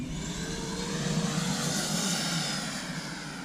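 An F-86 jet aircraft in flight gives a steady, loud engine roar and whine that swells slightly in the middle, heard alone without any talking.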